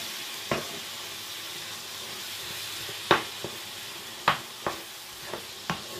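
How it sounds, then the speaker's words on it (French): Onions and beef frying together in a pan, a soft continuous sizzle broken by several sharp spatula scrapes and clicks against the pan at uneven intervals. "On mélange bien les oignons avec la viande."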